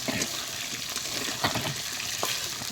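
Food frying in a pan makes a dense, continuous sizzle with bursts of crackle and stirring, fairly loud and close, with no one talking.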